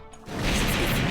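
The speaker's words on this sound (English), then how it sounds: "Explosions!" Explosions go off in the Touhou Genso Wanderer Reloaded video game, a sudden loud crashing blast that bursts in after a brief quiet moment and roars on without a break.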